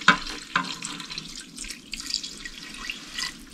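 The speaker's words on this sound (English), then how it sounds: "Okay, so I'm just gonna add some water on top of it." Water is poured into an Instant Pot holding chicken soup and broth, giving a close, splashy gurgling stream with a few uneven surges and drips over a few seconds.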